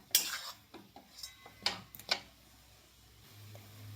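Spoon scraping and clinking against a pan while a cutlet-vada mixture is stirred, a handful of sharp metallic taps and scrapes spaced irregularly, close and fairly quiet.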